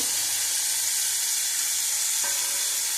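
A hot pan sizzles loudly and continuously, close at hand, as tomato, a dried red chili and chopped ginger are added, with a brief stir and clink partway through.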